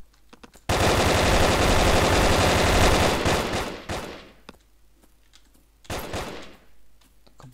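Gunfire from the video game Brick Force, a loud sustained burst of rapid automatic fire lasting a couple of seconds, followed by scattered shots and a second shorter burst, with no talk.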